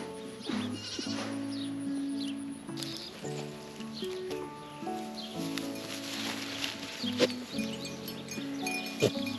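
Goats on a farm bleat repeatedly at close range, overlapping calls in an irregular rhythm with a few sharp knocks scattered through.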